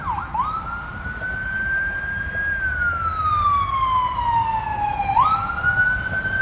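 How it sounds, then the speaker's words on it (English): Ambulance siren on a road near North DeKalb Mall in Decatur, Georgia, loud and close, wailing up and down in long sweeps over traffic rumble as it passes. "Could be private ambulance."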